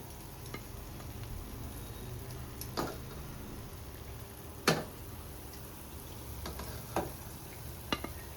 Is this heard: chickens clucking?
no